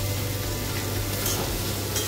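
Chopped onions fry gently in a pan on a low gas flame for a Bengali fish dish, giving a steady close sizzle with light stirring.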